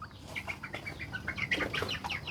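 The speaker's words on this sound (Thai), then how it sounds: "เด็กไล่ไก่น้อย" Chickens flap their wings and cluck in a flurry as a child chases them, close and busy bursts of fluttering with short calls.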